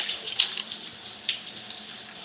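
Water running steadily from a tap while rinsing conditioner out of curly hair, a soft continuous hiss with a few small splashes, no talking.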